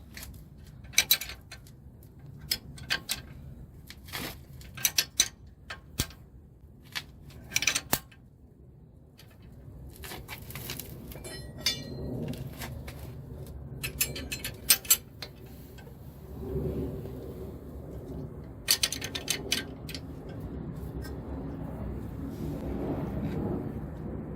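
A wrench tightens a bolt on the wishbone of a Toyota Yaris, giving sharp metallic clicks and clanks in irregular bursts, close and moderately loud, with quieter handling noise between.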